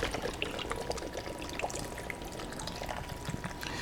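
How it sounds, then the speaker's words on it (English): A can of peach nectar poured into a pot for chilled peach soup, a steady liquid trickle and splash running continuously at moderate level with faint kitchen clatter. "But we're going to add 1 can of peach nectar."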